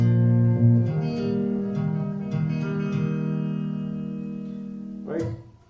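Acoustic guitar plays the third bar of a song as a short lesson phrase, sustained chords ringing steadily with a fresh strum near the end before fading out.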